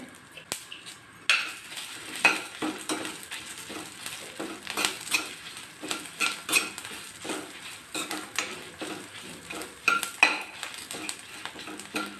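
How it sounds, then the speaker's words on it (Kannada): A quarter spoon of mustard seeds dropped into a hot pan while cooking Karnataka-style avarekalu huli, heard as sizzling and frying with repeated clinks and scrapes of a spoon against the pan, close by, with no talk. "ಸಾಸಿವೆ ಕಾಲು ಸ್ಪೂನ್ ಹಾಕ್ತಾಯಿದ್ದೀನಿ"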